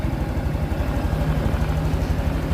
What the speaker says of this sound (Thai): อันนี้คือเครื่องยนต์ทำงานแล้วนะครับ